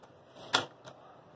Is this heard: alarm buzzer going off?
no